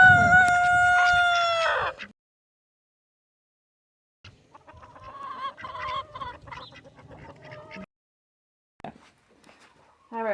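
A rooster and chickens heard close by, with a loud crow-like call at the start followed by bursts of clucking and squawking separated by pauses; the injured rooster is among the flock.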